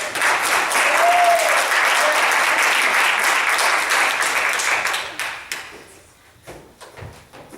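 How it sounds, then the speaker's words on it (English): Loud, dense applause from an improv comedy night audience, sustained for several seconds before thinning into scattered claps and fading out. "let's get her back inside with a big round of applause"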